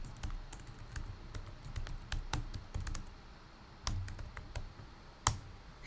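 Quiet keyboard typing at a computer, irregular clusters of soft key clicks and a few sharper taps, steady and close with no voices.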